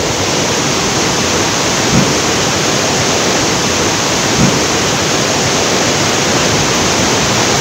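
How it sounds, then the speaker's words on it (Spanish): A swollen river roars in a steady, loud broadband rush beneath a solid metal bridge at Velo de Novia near Eloxochitlán, Oaxaca, filling the whole stretch with two faint low thumps. "El río está muy crecido."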